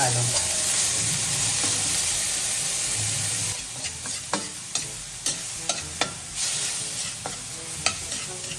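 Ground pork sizzles and fries in a pan, a constant hiss with a series of sharp scraping clicks as a utensil stirs and sautés the meat, close and loud.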